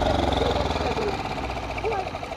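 A small boat's motor runs with a low, throbbing hum near Talsari on the Odisha coast, steady and close, while people talk over it.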